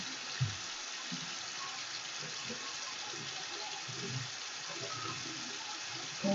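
Hands are washed with soap under a steadily running tap, giving a continuous even splashing hiss into a sink throughout, with faint handling sounds and no clear speech.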